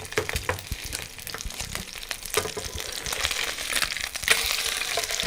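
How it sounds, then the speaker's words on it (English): Cod fillet searing in a hot frying pan, a close, lively sizzle with frequent crackles and spatters that grows louder toward the end, no talking. "Because cod is a somewhat flaky fish, and you want to get a good sear on it."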